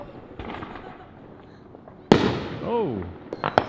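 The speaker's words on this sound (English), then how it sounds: "Sounds like a battlefield out here with all the fireworks." Neighborhood fireworks going off outdoors, scattered distant pops giving way to a loud nearby boom, then whistling rockets and further sharp cracks, with a faint voice underneath.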